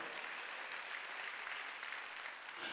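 A congregation claps during a Sunday worship service at a church, a steady dense wash of many hands that holds evenly for a few seconds, fairly quiet and heard from a distance.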